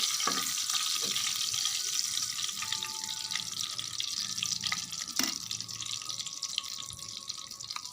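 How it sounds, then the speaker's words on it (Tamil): Bay leaves frying in oil in a pan for a spicy Rajasthan-style fish gravy, a steady broadband sizzle running throughout with a few sharp clicks and crackles, close and even in level. "இதில் வந்து 2 தேஜ்பத்தா போட்டுக்கலாம், பிரியாணி லீஃபு. இப்போ போட்டுட்டு நல்லா ஃப்ரை பண்ணிக்கலாம்."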